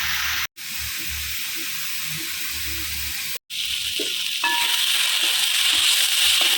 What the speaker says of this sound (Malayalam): ഇത് സവാള ഒന്ന് ചെറുതായിട്ടൊന്ന് വഴണ്ട് വന്നിട്ടുണ്ട്